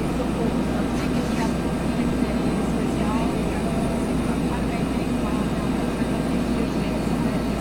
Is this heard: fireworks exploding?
no